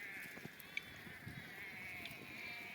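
Faint sheep bleats come through a quiet outdoor scene as the sheep eat pigeon pea husks, with a thin steady whine and soft rustling in the background.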